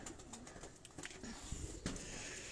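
Pigeons on a rooftop coo softly and faintly in low murmuring calls, with light flutters and small knocks in the quiet background.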